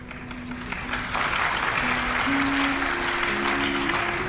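Audience clapping steadily at a Hindu religious discourse on the Krishna Janmashtami story, a dense sustained wash of applause with a faint sustained tone running beneath it.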